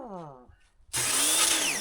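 A pressure washer motor starts abruptly after a brief voice and runs loud and steady, a dense close mechanical whine and hiss continuing to the end.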